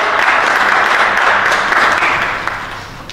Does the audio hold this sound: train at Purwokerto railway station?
no